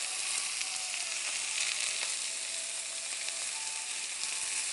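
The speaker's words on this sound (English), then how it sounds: "So we're going to cook up this fish." Fish fillet frying in a pan for miso soup, a steady close hiss and crackle of sizzling oil running evenly throughout with no talking.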